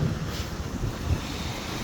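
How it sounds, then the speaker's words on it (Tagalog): Strong surf pounds the shore at Dinahican at night, a steady broadband roar of crashing waves mixed with wind buffeting the microphone, continuous and loud without pauses. "Sobrang lakas ng alon"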